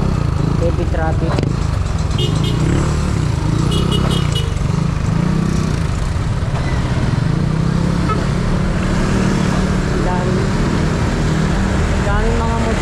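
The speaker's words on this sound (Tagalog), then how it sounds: "Daming mga motor." Many motorcycles in dense city traffic near Quezon Bridge, Pasig, with engines droning and revving close by in a steady mass of road noise, someone speaking over it.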